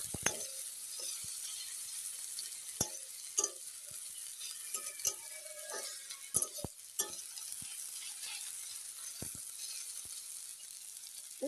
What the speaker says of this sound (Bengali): এবারে আমি পেঁয়াজ ও আলুর সাথে ভালোভাবে এগুলোকে নাড়বো।